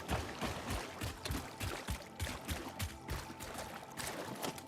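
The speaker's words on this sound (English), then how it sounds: "Right, so we've got a geyser." Geyser in the game Satisfactory, a soft, continuous bubbling and gurgling with a rapid pulsing rhythm, faint and steady with no voice over it.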